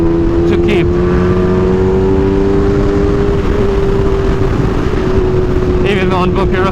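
A Kawasaki Ninja H2 motorcycle rides along with aggressive throttle, its engine tone droning and slowly shifting in pitch under heavy wind rush, loud and close, with a rider talking over it.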